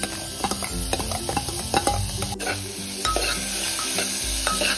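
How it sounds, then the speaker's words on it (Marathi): Soaked masoor dal sautéed with spices in a pan for a Marathi-style masoor dal, giving a steady close sizzle with repeated scraping and stirring strokes of a spoon against the pan throughout. "अर्धा मिनिटासाठी ना ही डाळ आपण छान अशी परतून घेऊयात"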